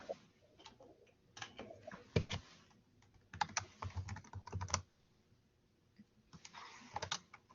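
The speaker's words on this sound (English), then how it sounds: "typing his contact information in the chat box" Keys clatter on a computer keyboard in irregular bursts of typing with short pauses, close and fairly quiet in a still room.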